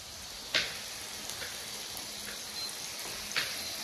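Burger patties fry in oil in a pan, giving a steady close sizzle with a couple of sharper crackles and spits, heard alone without talk.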